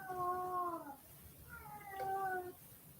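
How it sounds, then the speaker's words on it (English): Cats fight outdoors in front of a house, giving two long, wavering yowling caterwauls one after another. They sound moderately loud and a little distant, with a brief pause between the cries and no talking. "These cats are fighting in front of our house, and it's loud."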